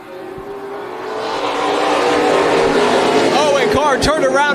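Race cars roaring off the initial start at Tucson Speedway, engines swelling from a building rumble into a loud, revving pack with rising whines passing close near the end.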